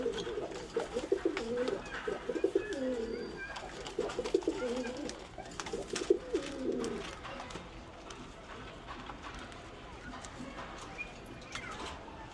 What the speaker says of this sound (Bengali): এই যে আমার সিলভার কবুতরের বাচ্চা ফুটছে আলহামদুলিল্লাহ।